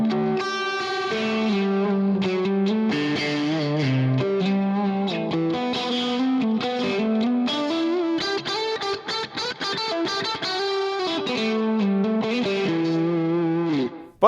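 A Misha Mansoor So-Cal 2PT electric guitar, played through effects, rings out in a continuous melodic line with distortion and chorus-like shimmer, close and full-bodied, sustained notes sliding between pitches with a brief dip near the end.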